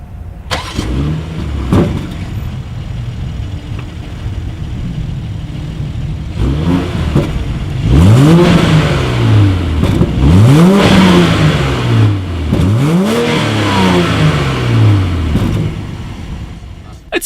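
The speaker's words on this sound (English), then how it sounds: "As always, here is that exhaust clip." A BMW X7 with dual exhaust outlets revs repeatedly from idle, several rising and falling engine surges in close succession, loud and near, with no talk over it.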